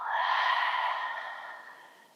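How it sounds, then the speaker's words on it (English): A single long open-mouthed exhale during a yoga class, breathy and soft, fading steadily over about two seconds with no talking. "Take a full inhale. Open mouth, exhale."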